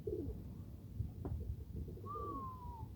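Soft, low cooing of a young pigeon repeats under a steady background murmur, and a thin whistling tone briefly rises then slides down near the end.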